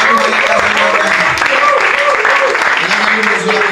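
A church congregation cheers and claps loudly during a worship service. Steady, dense applause runs throughout under voices that sing and shout.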